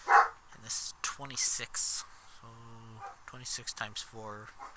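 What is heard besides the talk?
dogs barking in background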